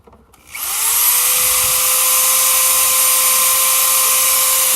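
Power drill boring holes into a plastic pot, the motor spinning up quickly to a steady high whine that holds loud and unbroken for several seconds.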